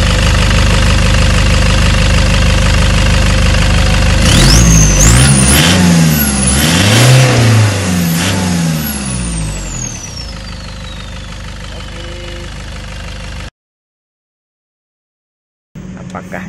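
Toyota Innova 2KD non-VNT diesel engine with a new downpipe idling, then revving loudly several times and slowly winding down, followed by silence and a faint return of the idle.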